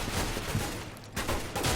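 Rapid gunfire bursts from a Counter-Strike: Global Offensive match at a Copenhagen Games 2013 tournament, dense overlapping shots over a steady game din with louder clusters near the start and end.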